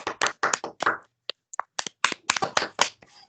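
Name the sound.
applause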